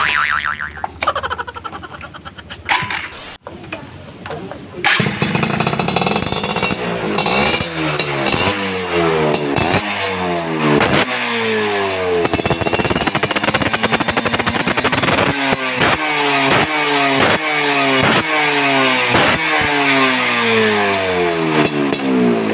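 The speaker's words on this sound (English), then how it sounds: "Dan si PT ini juga udah ganti knalpot stainless. Kita coba dulu." A Yamaha F1ZR two-stroke motorcycle fitted with a Satria FU stainless exhaust revs hard and loud, with repeated rising and falling throttle blips close by, after a brief start-up.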